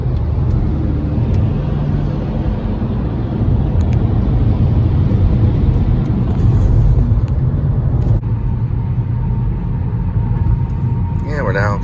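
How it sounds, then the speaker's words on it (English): Steady low rumble of a car driving through Saturday traffic, with road and engine noise filling the whole stretch and a few faint clicks and a brief tone near the end. "we're now coming into traffic on a Saturday"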